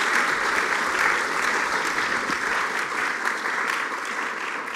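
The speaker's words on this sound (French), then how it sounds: "On peut applaudir Marwan" A university audience in Sherbrooke applauds after a research presentation, producing a full, continuous round of clapping that holds steady and tapers only slightly toward the end.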